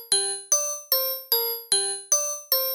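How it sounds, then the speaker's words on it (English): A Screenery Bell synth preset in FL Studio plays a super repetitive pattern of seven bright, ringing bell notes spaced evenly about every 0.4 seconds, each struck cleanly and decaying before the next, alternating between two pitches with no voice. "I grabbed the Screenery Bell preset and I just laid out a super repetitive pattern"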